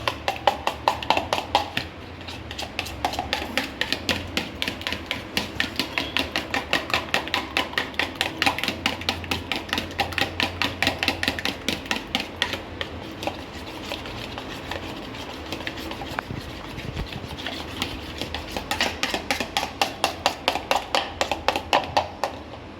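Eggs with a little salt are whisked in a bowl, a rapid, steady stream of close clinking taps that keeps a brisk rhythm for over twenty seconds.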